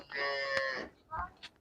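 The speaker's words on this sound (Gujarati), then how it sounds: "આ ગાય છે આપણે લાવવાની છે અત્યારે" A cow gives one long, clear moo up close, followed by a couple of shorter, fainter grunting sounds.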